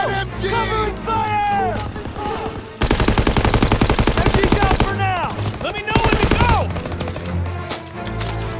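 Machine gun fire in the Call of Duty: WWII Death Factory mission, with long rapid bursts of loud automatic shots amid battlefield noise and shouting voices in the game.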